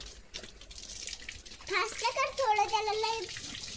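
A German Shepherd laps water outdoors in a field, giving soft, splashy, irregular slurps close by, while a person talks over the latter half.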